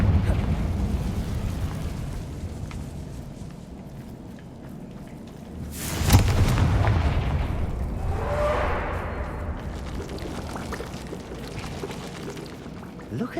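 A Confringo fire spell explodes in the video game Hogwarts Legacy: a sudden loud, broad blast that swells and rumbles for a few seconds, then fades into a lingering roar over ongoing background game ambience.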